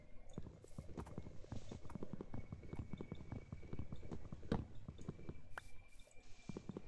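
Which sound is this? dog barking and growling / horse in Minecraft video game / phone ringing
horse in Minecraft video game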